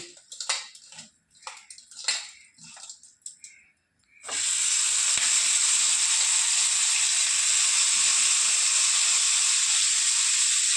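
Prawns tossed with turmeric and salt hit hot mustard oil in a pan and set off a loud, steady sizzle that runs unbroken to the end, after a few seconds of quieter clatter and handling.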